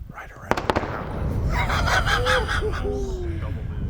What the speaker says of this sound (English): if you listen closely, folks, you could hear multiple sonic booms happen.